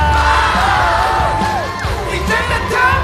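A studio audience at a Chinese stand-up comedy show cheers and whoops loudly for an entering comedian, a dense crowd roar with rising yells and music-like tones underneath.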